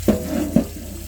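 Hot water splashing into a bowl for bread dough, close and fairly loud, with two brief gushes over a continuous watery rush.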